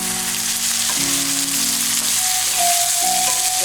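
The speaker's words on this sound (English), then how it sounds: "And stir it together" Fried rice with organic breakfast sausage and egg sizzles loudly in a hot pan while being stirred, a constant crackling hiss with faint tonal hum in the background and no voices.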